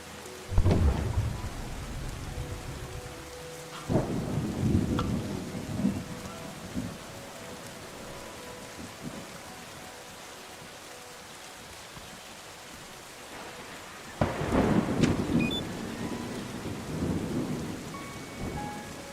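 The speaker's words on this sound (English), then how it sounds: "I'll have to wait for the rain to stop." Heavy rain falls steadily while deep rolls of thunder rumble several times, loud near the start and again later, with the downpour hissing continuously between the claps.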